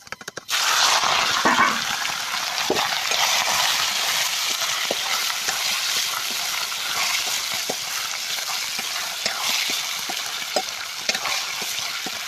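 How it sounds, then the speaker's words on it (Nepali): Goat meat, cooked village style, drops into hot oil with a sudden loud burst, then settles into a dense, continuous close-up frying sizzle with occasional crackles. "अब ट्याक्क ल्याएर मासु हाल्छु।"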